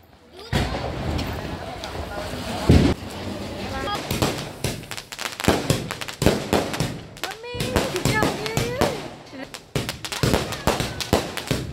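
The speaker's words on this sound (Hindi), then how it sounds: "अंशु के लिए हम थोड़े बहुत पटाखे लेके आए हैं," Small children's firecrackers burst during a Diwali celebration at home, a string of sharp, loud cracks and pops at irregular intervals, with voices talking between and under the bangs.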